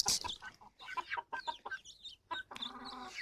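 Hens and young chicks in a backyard poultry flock clucking and peeping, a busy string of short calls and chirps close by, with a longer warbling call near the end and no human voices.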